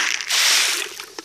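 Fish leaping out of the water at a small farm pond, a broad splashy burst of water sound followed by a few fainter, brief splashes and drips.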